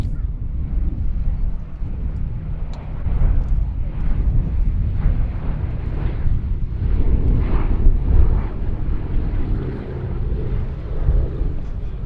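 A B-17G bomber flies at the Duxford summer airshow, its engines a continuous deep droning rumble that swells slightly midway, with wind buffeting the microphone.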